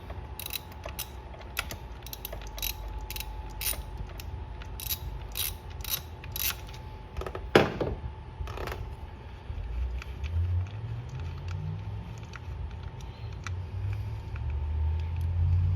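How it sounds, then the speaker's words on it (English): Ratcheting and clicking of a wrench loosening the bolts holding the coil pack on a Dodge Challenger Scat Pack engine, quick repeated metallic clicks in bursts with a sharper clank midway, close and clear with no talking. "Remove both those bolts, then you'll be able to pop out the coil pack"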